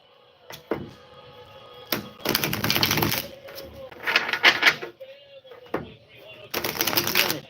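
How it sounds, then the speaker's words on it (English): Several bursts of rapid riffling and flapping, like cards being shuffled, separated by short pauses and a few soft taps. "So we're going to go ahead and shuffle the deck and see what's in here today."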